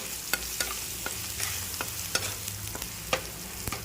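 Chilli powder and onion-garlic masala stir-fry in a hot pan for a ghevda bean curry, with a constant sizzle and regular sharp spoon clicks and scrapes against the pan.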